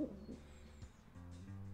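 Pigeons coo softly in a low, muffled, throaty call that repeats a few times over less than two seconds, faint and alone.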